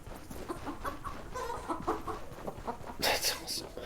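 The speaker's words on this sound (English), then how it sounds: "Chickens." Chickens cluck softly in the video game Stoneshard, small scattered clucks under a quiet ambient background, with a louder burst of sound near the end and someone talking quietly over it.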